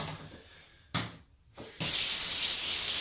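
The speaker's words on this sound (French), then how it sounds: "Donc maintenant, on va pouvoir rincer." Tap water rinsing hair after a hair transplant, a steady close spray that starts, stops briefly, then returns louder and continuous.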